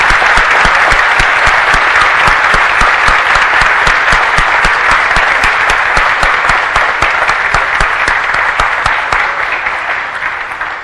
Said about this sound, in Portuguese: Eu queria que, em agradecimento, todos nós pudéssemos aplaudir o trabalho desses irmãos.